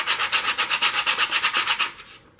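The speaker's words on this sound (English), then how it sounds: "sanding the pieces like this." Plastic puzzle cube pieces are sanded by hand, a close, brisk back-and-forth scratching rasp of about fifteen quick rhythmic strokes that stops abruptly at the end.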